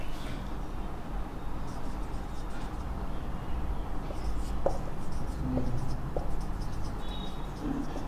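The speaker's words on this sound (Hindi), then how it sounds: "तो हम इसका डेफिनेशन लिख लेते हैं।" Pen scratching out a cell-cycle definition by hand during a biology lesson, a steady, continuous writing sound with small strokes and taps over a low room hum, no talking.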